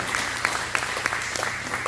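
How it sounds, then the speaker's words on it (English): Applause at a university event, a steady patter of many hands clapping with occasional sharper individual claps, moderately loud and without speech. "let's give a big round of applause to Cheryl and Don as they move over to that corner."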